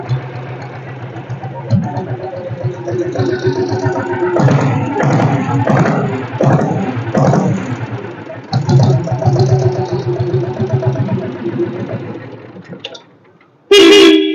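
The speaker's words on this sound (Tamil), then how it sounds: "ஸோ இந்த வண்டியோட பீட் சவுண்டு கேளுங்க." A diesel Royal Enfield Bullet motorcycle idling with a steady low thumping beat, close by, with people talking over much of it and a brief loud burst at the end.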